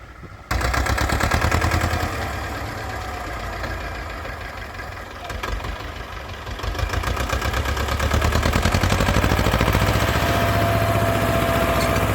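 A T-25 tractor engine runs under load while ploughing stubble, a loud continuous diesel chugging with a rapid steady beat that dips briefly and then surges again.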